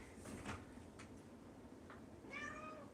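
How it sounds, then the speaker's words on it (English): A house cat meows indoors, a soft call near the start and a clearer, drawn-out meow toward the end, heard close but fairly quiet over steady room noise. "There's my cat. Do you hear her?"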